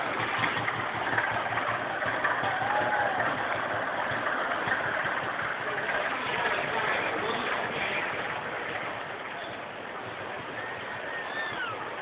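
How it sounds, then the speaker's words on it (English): Old tractor engines idle as they roll by in the Tustin Tiller Days parade, a steady, continuous mid-to-low rumble that holds for the whole stretch with a broad outdoor wash around it. "Old tractors, look at this."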